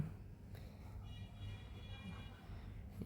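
Low, steady rumble and rattle from inside a moving train carriage in Bangladesh, with faint clacks of the wheels on the track.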